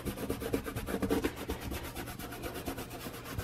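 Arteza self-adhesive vinyl being pulled by hand, a steady dry rubbing, rasping drag that runs continuously at close range with no talking.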